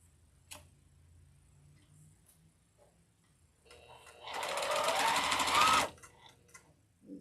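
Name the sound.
sewing machine stitching pieces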